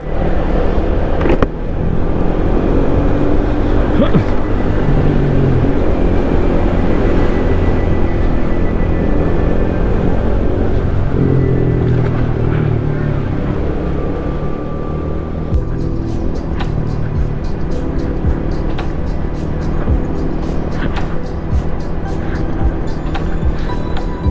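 A Yamaha XMAX 250 scooter cruises along a road through narrow lanes toward the Jatigede reservoir near Sumedang. Its engine drones steadily and loudly under constant wind and road rush for a long stretch, with the pitch shifting slightly.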